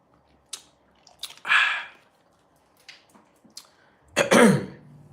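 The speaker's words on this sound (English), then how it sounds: "I have to clear my throat." A man clears his throat twice, a rasping burst near the start and a louder one toward the end, with a few faint clicks and small noises between them in a quiet room.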